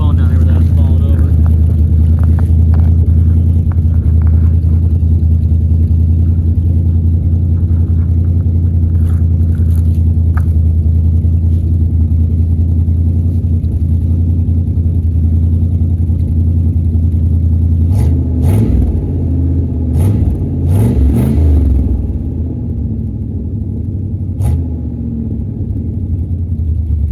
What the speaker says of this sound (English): How about we give it a little bit of rev?